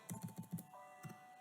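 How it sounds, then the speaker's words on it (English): A computer keyboard typed on in a brief burst of five quick, soft key taps at close range, fairly quiet, with a faint steady hum behind and no talking. "So I will type import"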